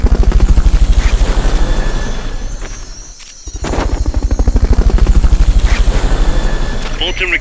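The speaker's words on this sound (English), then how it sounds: "Fulton recovery helicopter is complete." The Fulton recovery helicopter in Metal Gear Solid Peace Walker HD thunders with a loud, rhythmic rotor chop that dips briefly midway and then returns at full strength, with voices talking over it.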